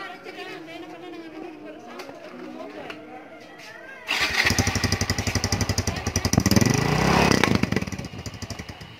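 A Yamaha Fino 125 scooter with a reworked exhaust muffler starts up under chatter, its engine popping into a loud, rapid rattling idle that is revved once, with a slight exhaust leak.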